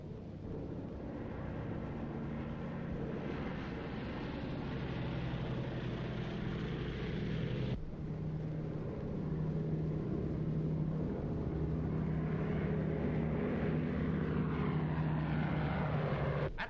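Propeller aircraft engines running on the ground before takeoff, a continuous droning roar with a low throbbing hum, loud and steady throughout.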